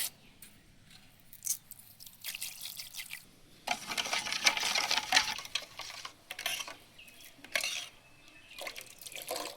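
Roasted mango pulp stirred by hand with water, beet salt and sugar, giving a wet, sloshing swirl that swells in the middle and then eases into softer splashes and drips, close and alone.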